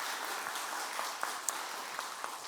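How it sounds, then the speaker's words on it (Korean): Church congregation applauding after a clarinet solo of a sacred hymn, a soft, steady wash of many hands clapping at a distance with a few sharper claps standing out. "우리 큰 박수 한번 보내드리도록 하겠습니다"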